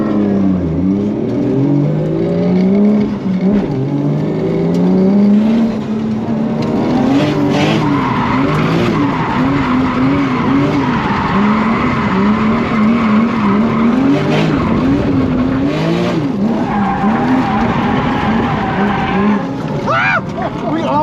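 A Toyota JZX100 drift car's engine roars and revs continuously while tires squeal through slides at a drift day, loud and close throughout.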